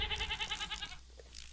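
A Minecraft goat lets out a single loud, trembling bleat lasting about a second, close up, with faint game ambience afterward.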